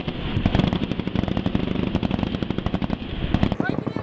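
Rapid small-arms fire crackles in continuous bursts of dense, sharp reports during a battle in Doan, Afghanistan, between Australian and Afghan soldiers and the Taliban, moderately loud and sustained throughout, with a voice speaking over it.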